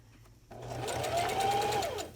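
Sewing machine stitching a seam on a cloth face mask, a short steady whirring run of about a second and a half that starts abruptly and trails off.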